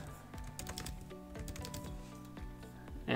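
Fingers type on a computer keyboard, a quiet, close run of uneven clicking keystrokes with short pauses, over faint background hum.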